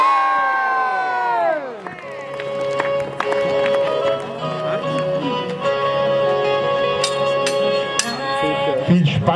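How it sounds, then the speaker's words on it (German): A crowd at a knights' tournament at Riegersburg castle cheers and shouts loudly, with whoops and excited voices rising over sustained tonal sounds through the whole stretch. "ein lauter, kräftiger Jubel, ein Jubel ertöne"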